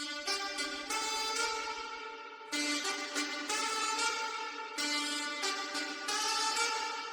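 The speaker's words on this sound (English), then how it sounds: "but I actually turned down one full octave to sound like a bassy saxophone in the intro" Saxophone loop at normal pitch within a reggaeton beat, a bright melodic phrase repeating three times with short gaps between cycles, steady and fairly loud with no talking.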